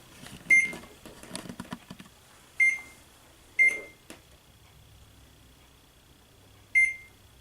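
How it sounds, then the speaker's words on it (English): A kitchen timer is set in a home kitchen, with several short button beeps and scattered clicks spaced out over a quiet background, no voices. "we'll set our timer here"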